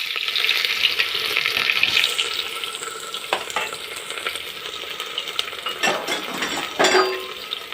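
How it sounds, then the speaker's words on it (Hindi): Onions going into hot oil with whole spices, giving a steady close sizzle and frying hiss, with occasional scrapes and clinks of a spoon stirring in the pan. "तो अब हम इसमें प्याज डालेंगे"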